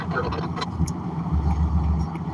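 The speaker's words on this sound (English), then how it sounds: "You guys just saw the convoy go by. That was the whole convoy." A truck convoy rolls past on the road, a broad steady engine rumble and tyre roar that swells and holds near the listener, with no voices.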